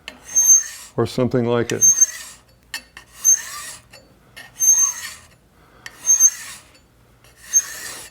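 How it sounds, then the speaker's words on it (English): Hand file cutting brass in a woodworking shop, a series of close rasping strokes in a steady rhythm, with a short spoken phrase near the start. "So filing brass isn't too bad. Brass cuts freely."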